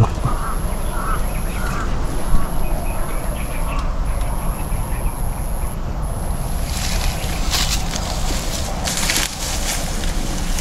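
Crows caw harshly in a repeated rough series over the first few seconds, moderately distant, against a steady wash of broadband outdoor noise.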